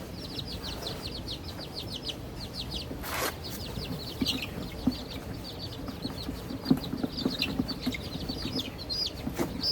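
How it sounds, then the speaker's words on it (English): Small bantam chickens of the Sebright breed cluck and chirp in short repeated bursts, fairly close, with steady background noise and the occasional louder squawk. "These are bantam chickens."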